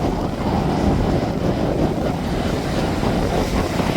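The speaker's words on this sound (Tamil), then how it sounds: "அந்த வல்லம் அந்த காற்றுக்கும் அந்த அலைக்கு எப்படி வருதுன்னு பாருங்க" Steady, loud wind roars and sea waves wash continuously around a moored fishing boat on the shore, with no pauses and no speech.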